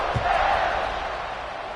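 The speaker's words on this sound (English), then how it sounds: "this crowd is buzzing after that last score" A football stadium crowd buzzes steadily after a touchdown and extra point in a 35-7 game, a dense, continuous roar of many voices that fades slightly toward the end.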